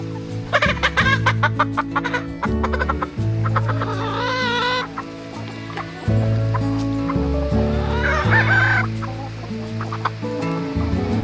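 Several roosters cluck and crow loudly up close, their calls overlapping in a busy, continuous chorus.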